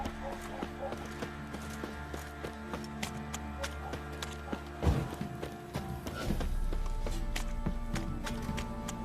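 Horses clip-clop in The Witcher 3 video game, a steady run of close hoofbeats with a heavier thud partway through.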